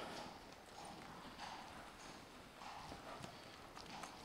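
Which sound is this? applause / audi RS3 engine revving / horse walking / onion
horse walking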